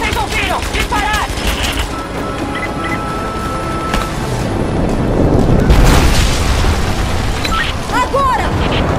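Trebuchet firing in the video game Rise of the Tomb Raider, heavy booms and crashing impacts rolling through a loud battle scene, with voices shouting over the din.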